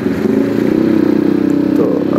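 Large motorcycle being ridden near the sea, its engine giving a loud, steady, continuous drone with a throbbing texture throughout, with no talking.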